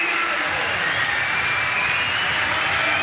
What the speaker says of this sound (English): And the crowd are delighted